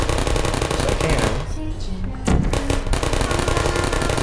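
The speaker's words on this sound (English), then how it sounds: "I killed them by shooting them with portals" Rapid bursts of shots from the portal gun in the video game Portal, a dense, loud crackling run of repeated blasts with a brief lull midway before a sharp fresh volley.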